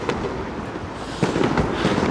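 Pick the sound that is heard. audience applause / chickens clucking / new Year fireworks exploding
new Year fireworks exploding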